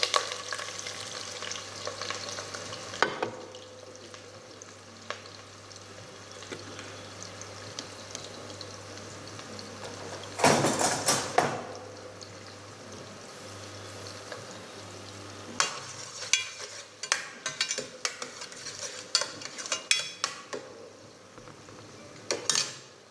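Onions fry with a steady sizzle in a pan during a Delhi-style korma cooking class, broken by bursts of stirring and scraping, with clattering utensils toward the end.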